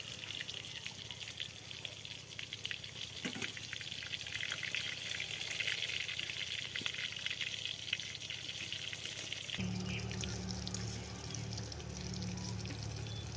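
Snake gourd slices fry in oil in a small pan at home, giving a steady close sizzle throughout that shifts to a slightly different, bubblier tone near the end.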